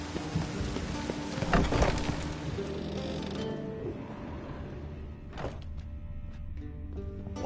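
Steady rain falling in The Witcher 3: Wild Hunt, a dense hiss of rain on surfaces with a low rumble swelling and fading beneath it, continuous and fairly quiet with no voices.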